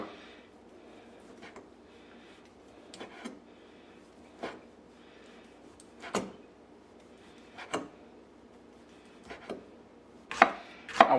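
A knife cuts thin slices from a firm, salt-water-boiled octopus tentacle on a board, giving sparse, separate soft chops spaced a second or two apart. The room is otherwise quiet, and the last strikes come quicker and louder.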